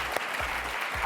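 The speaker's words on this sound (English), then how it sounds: "give them a round of applause" A TV studio audience breaks into brief, dense applause, loud and close, with steady clapping throughout the short burst.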